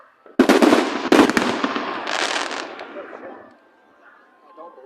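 Fourth of July fireworks burst loudly close by, two sharp bangs followed by a long crackling sizzle that fades out, with a voice faintly heard.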